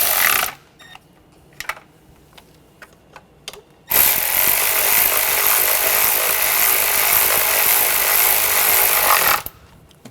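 Bolts on the crankshaft position sensor of a 2009-2013 BMW 328i xDrive 3.0L inline-six are snugged down with a power tool: a few light clicks and taps, then a loud, continuous whirring burst lasting several seconds before stopping abruptly.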